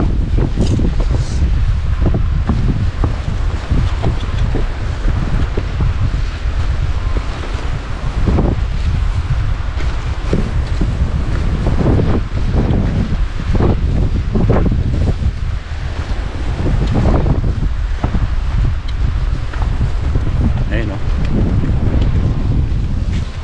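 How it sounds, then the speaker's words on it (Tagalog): Strong wind buffets the microphone on a seaside jetty at Bowen, Queensland, a loud, continuous roar with gusts and waves washing beneath it. "mahangin."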